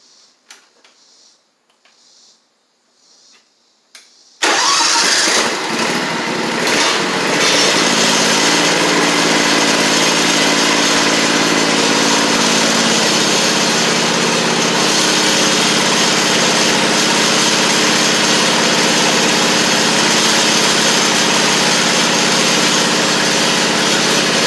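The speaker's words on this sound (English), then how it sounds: "So let's see if it'll crank." A John Deere GT235 lawn tractor engine cranks and catches after a few quiet seconds, then runs loud and steady at idle for the rest of the time with no talking.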